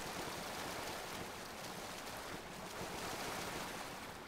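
Continuous broadband watery rushing and splashing in PlayerUnknown's Battlegrounds, steady and fairly loud throughout, with no talking.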